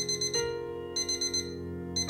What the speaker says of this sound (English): I rolled over and ignored the beeping